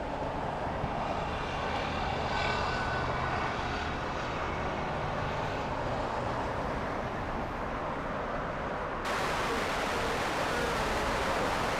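An Airbus A380 airliner at LAX produces a steady, broad engine roar that holds constant for about twelve seconds at a moderate distance, with no talk over it.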